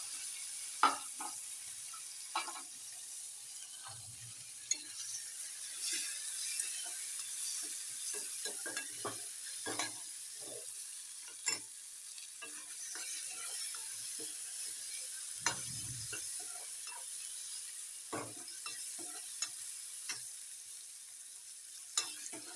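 Onion and tomato fry in a pan for a fenugreek leaf curry, giving a soft steady sizzle with sporadic clicks and scrapes of a spoon stirring, fairly quiet and close, with no talk.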